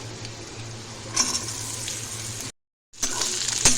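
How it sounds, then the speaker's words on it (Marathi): Okra is stir-fried in oil with chillies in a kadhai, making a continuous hissing sizzle with some stirring. The sound breaks off into a brief silence and then comes back. "भेंडी आपण परतून घेऊया"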